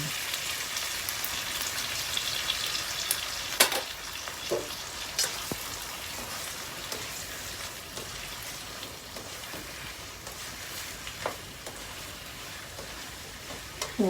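An egg for ginisang ampalaya, a Filipino bitter-gourd stir-fry with onion, garlic and tomato, sizzles and crackles steadily in a hot pan, with occasional clinks of stirring, moderately loud and continuous.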